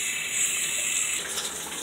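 Soapy water runs steadily into a bathtub, a continuous close hiss of flowing water heard alone with no talking.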